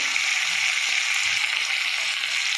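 Cumin, turmeric and tomato sizzling steadily in hot oil in a pan for tadka dal, a loud, even hiss that holds without pause.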